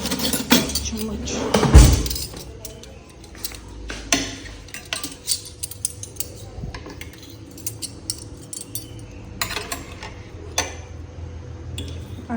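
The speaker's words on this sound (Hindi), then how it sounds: "चमचे चाहिए हमें, यहाँ से लेते हैं।" Metal spoons are pulled from a kitchen holder, with one sharp clatter and then scattered light clinks and jingles. The sounds are fairly close in a quiet home room.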